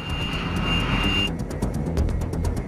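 An A-10 Warthog close air support jet roars loudly and steadily; a high whine fades partway through and gives way to a rough, rumbling engine wash with rhythmic pulses.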